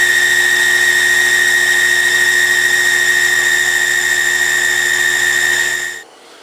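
A Sherline lathe motor whines steadily with strong tonal harmonics while metal is cut on the knurling pass, loud and continuous for six seconds before cutting off abruptly.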